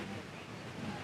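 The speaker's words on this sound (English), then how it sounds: "I can hear the birds singing and the waterfall just behind me" Manavgat waterfall in Antalya, Turkey rushing nearby as a low, steady broadband roar of falling water, faint and continuous with no distinct events.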